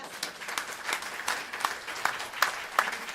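An audience at an evening talk claps for a speaker. The applause is brief and moderately loud, a few seconds of scattered individual hand claps with sharp, distinct smacks and no voices over it.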